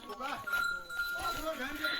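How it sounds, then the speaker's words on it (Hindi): Goats and bulls herded on a mountain farm make faint bleats and soft movement close by, with someone talking over them. "और बकरियां आ रही है पीछे से।"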